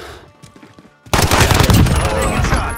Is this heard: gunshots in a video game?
yes